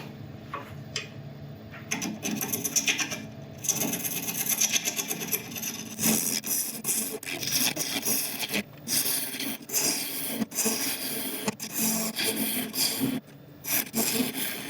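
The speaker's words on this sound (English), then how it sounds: "last bit to do is to widen this hole by about another ½ inch with a negative rake carbide" A negative rake carbide tool scrapes and rasps steadily as it widens the hole in a spinning resin woodturning. The close, continuous cutting noise breaks off in several short pauses.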